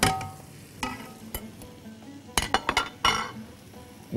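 A spoon stirs salted ingredients in a metal pan while preparing a shrimp maqluba, producing a few light clinks and scrapes followed by a louder cluster of quick metallic knocks and a faint sizzle underneath.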